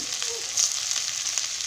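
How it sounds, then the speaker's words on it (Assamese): Fish and potatoes frying in a pan, a steady close hiss and crackle of hot oil running throughout with small brief pops, no voices. "এইখিনি মই ভালকৈ ভাজি লওঁ"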